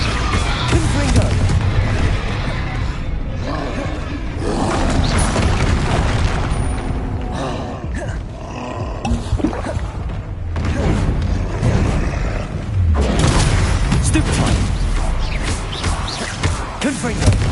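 Repeated booming explosions from the Confringo fire spell in Hogwarts Legacy, loud and dense alongside game combat noise, with a player talking over them.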